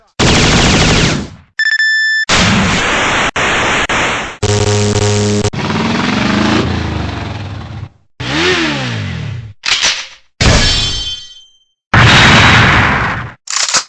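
Drop shot weapon firing in the Metal Slug arcade game, a loud series of separate synthetic bursts, bouncing tones and explosive blasts with short silent gaps between them.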